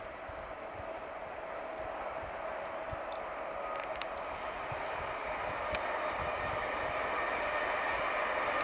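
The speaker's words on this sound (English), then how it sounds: "We can hear a train coming." A train rumbles steadily in the distance, heard from a river, its noise slowly building, with faint clicks and rattles from the rails.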